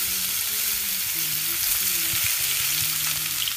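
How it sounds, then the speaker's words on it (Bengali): Chicken pieces fry in hot oil with a loud, continuous close sizzle and crackle for several seconds, with faint stirring and no voices. "বাকি পিসগুলো আমি ভেজে নিচ্ছি"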